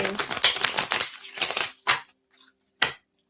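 Oracle cards are shuffled by hand in a few quick riffling bursts, with a last short flick and pauses of near silence between.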